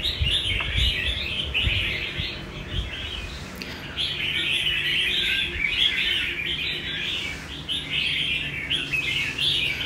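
A songbird sings in repeated bright, warbling phrases, fairly close and clear, with brief pauses between bursts.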